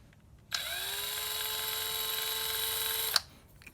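A drill spins a length of wire held in its chuck, making a steady high whine that starts abruptly, holds level for under three seconds, then stops sharply.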